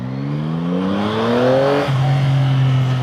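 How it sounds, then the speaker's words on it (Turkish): A Yamaha MT-09 Y-AMT motorcycle engine revs hard under sharp throttle. Its pitch climbs steadily and loudly, drops briefly at a shift, then settles into a strong sustained note. "Sert bir gaz açtım."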